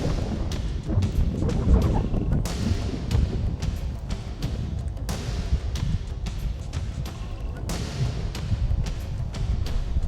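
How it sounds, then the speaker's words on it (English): Strong wind in the Grand Canyon roars and buffets continuously, with low rumbling gusts and occasional sharp thumps as it hits the microphone. "It's very windy. It's been windy all night."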